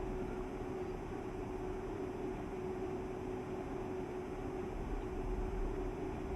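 Steady train rumble with a sustained brake tone in Train Simulator Classic, the Hamburg route, as the train slows hard toward a stop under near-maximum braking; a constant loud drone with a fixed pitched whine and no pauses.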